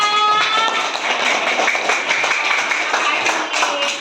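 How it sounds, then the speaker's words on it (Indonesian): A small group claps in a short burst of applause in a classroom, loud and close, while a voice talks over the clapping. "Tepuk tangan dong untuk Faisa."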